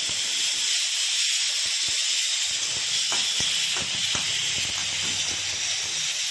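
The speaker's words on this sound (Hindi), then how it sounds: "आप देख सकते हो आलू हमारे फ्राई हो रहे हैं।" Potatoes frying in hot oil in a home kitchen, giving a loud, steady hiss that runs throughout with brief pops and crackles and a few light clinks.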